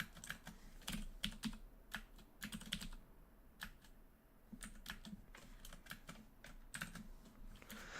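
Computer keyboard typing during a PC session of the roguelike game Dungeon Crawl Stone Soup, a steady run of close, crisp key taps with brief pauses, heard alone with no talk.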